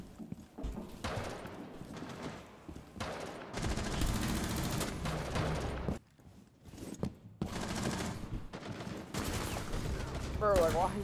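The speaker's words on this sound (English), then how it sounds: "This shotgun's so OP." Loud video game shotgun blasts and other gunfire fire in quick succession during a match, dense and close, with a player speaking in between.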